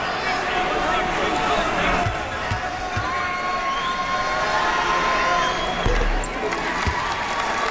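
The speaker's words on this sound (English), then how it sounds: "Cade Davis goes to the bench to a well-deserved round of applause" Basketball arena crowd applauding a player as he heads to the bench during a Kansas at Oklahoma college game: a steady, dense wash of clapping and crowd noise fills the whole stretch, with a commentator talking over it.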